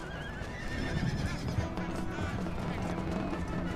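Horses neigh and whinny amid a busy battle scene in the strategy video game Empire: Total War, with a steady din of galloping and fighting underneath and a voice talking over it.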